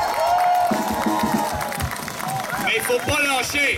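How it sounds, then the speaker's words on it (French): Crowd at a gathering in Sorel-Tracy cheering and clapping, a loud mass of applause and shouts under someone speaking. "Je pense qu'on peut tous s'applaudir"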